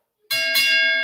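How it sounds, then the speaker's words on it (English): A bell rings as a sound effect, one sharp ringing strike with a bright, sustained metallic tone that stays loud through the end, close and with no talking. "Let's ring the Ali bell for Anna Lee"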